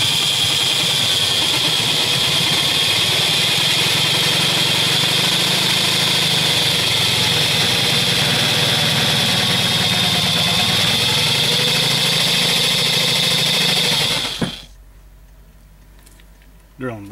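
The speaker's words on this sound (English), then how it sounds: "I've put an 8mm drill bit in the drill." A hand drill fitted with an 8mm bit drills out a brass primer pocket while the case is held in channel locks, a steady loud motor whine running continuously before cutting off abruptly near the end.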